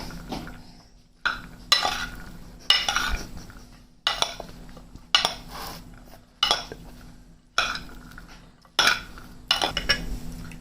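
A spoon mixes fruit chaat of apple, banana, pomegranate and grapes in a bowl, giving a steady series of close clinks and scrapes roughly once a second, each stroke tailing off before the next.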